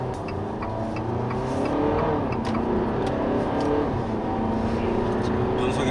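A 2016 Fiat 500X in sport mode pulls hard with a steady engine drone that climbs in pitch, and quick gear shifts break the rise. A voice talks over it throughout.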